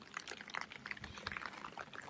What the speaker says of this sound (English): it empties out into this third swale, which is still pushing a decent amount of water, and that's currently filling up